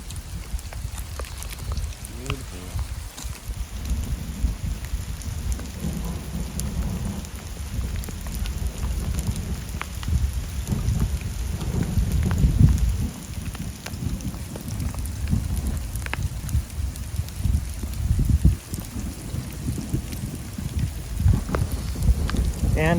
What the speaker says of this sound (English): but this is now hail.